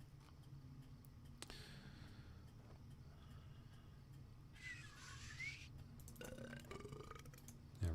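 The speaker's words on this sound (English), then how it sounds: "burp." A faint, single burp sound effect rises in the middle of quiet video-game audio, with only a soft background hum around it.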